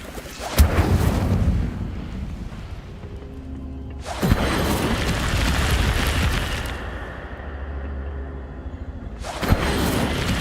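In a wizarding video game, an Incendio fire spell goes off as a loud whooshing blast that erupts, fades, bursts again mid-clip with a sustained roar, then flares a third time near the end.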